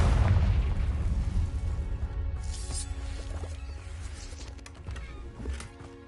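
A Confringo blasting spell detonates in the Hogwarts Legacy video game, a heavy booming explosion up front that rumbles and decays over several seconds with scattered crackles and pops.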